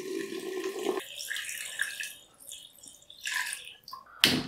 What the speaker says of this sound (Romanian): voi turna apă până sub nivelul capacului